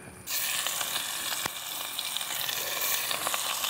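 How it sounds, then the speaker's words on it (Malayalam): Loud, dense sizzling of fish frying in hot oil starts suddenly and continues steadily, with scattered crackles and spits throughout. "അപ്പം നമ്മൾ മീൻ പൊരിക്കാനായിട്ട് എടുത്തങ്ങ് ഇടുകയാണ്"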